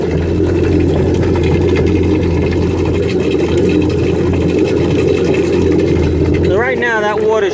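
Yamaha jet boat engine idling with water dribbling from the exhaust, a steady low mechanical drone with splashy hiss, close and constant, with a voice talking over the end.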